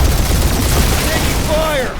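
Turrets fire in Marvel's Guardians of the Galaxy, a dense, loud rattle of gunfire and booms over a short burst, with a rising electronic whine near the end and speech mixed in.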